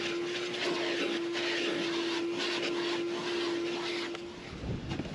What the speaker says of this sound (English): let's clean this up, hit it with the vacuum